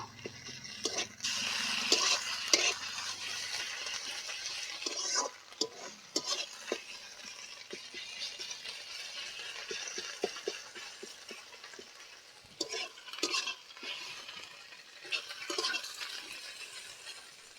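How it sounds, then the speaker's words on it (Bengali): Onions fried with ginger garlic paste for egg curry, stirred in a pan. Quiet sizzling runs under intermittent scraping and clinking spoon strokes, fairly close and without speech. "এক চামচ আদা রসুন বাটা দিয়ে দেব এবার একটু ভালোভাবে ভেজে নেব"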